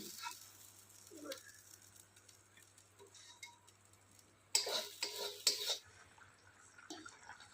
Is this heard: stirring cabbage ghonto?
yes